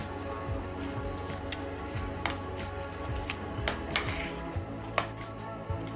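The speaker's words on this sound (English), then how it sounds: "We're going to add some sour cream to it. Mix well." Sour cream stirred into a baked potato filling in a bowl, heard as soft, wet squishing and light spoon clinks against the dish, steady and close with a few sharper taps toward the end.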